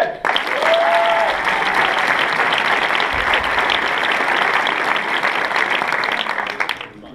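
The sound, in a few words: audience applauding Timothée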